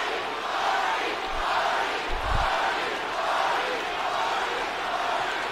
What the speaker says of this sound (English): Crowd is on Hardy's side here.